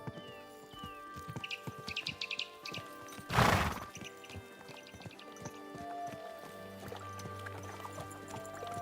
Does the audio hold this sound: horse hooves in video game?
yes